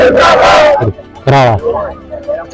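Protest march crowd in a village chanting slogans against Pakistan after a terror attack, two loud shouted voices rising in unison with a short gap between bursts, close and forceful.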